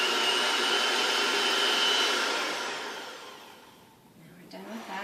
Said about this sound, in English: You can hear it's getting to be a bit too much for the mixer